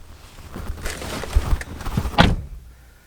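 A four-door car door opens and closes as someone gets in, with shuffling and rustling followed by a solid, close thump from the door shutting near the end, and then quiet.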